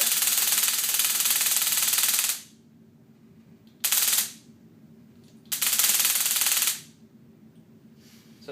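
A TASER X2 energizing after its trigger is pressed, a loud rapid electric crackle that runs for about two seconds, then two shorter bursts follow after pauses.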